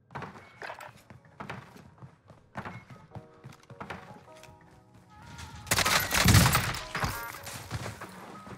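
Airstrike explosions in Call of Duty on Rebirth Island: scattered thuds and clatter build to a loud, dense burst of blasts near the end, then fade into lighter crackling gunfire.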